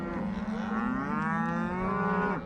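A single cow from a ranch cattle herd gives a long, loud, close moo that holds steady for over two seconds, on a snowy late-spring day, with no talk.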